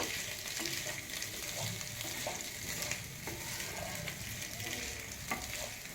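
Boiled potatoes fry gently in ghee with a splash of milk, giving a soft, continuous sizzle broken by a few light stirring scrapes, near but quiet, with no voices.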